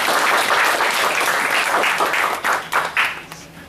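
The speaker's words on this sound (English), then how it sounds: "Let's give her a very good applause once again," Audience at a Toastmasters workshop applauding after a speech, a full, sustained round of clapping that thins and breaks into scattered claps toward the end.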